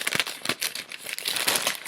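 Close, continuous crinkling and rustling of blue tissue paper as a package is unwrapped, in rapid irregular bursts with no talking.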